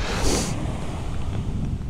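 Ocean waves wash and slosh onto the shore in Hawaii, a close, loud burst of surf followed by continuous churning water and some wind noise, with no voices.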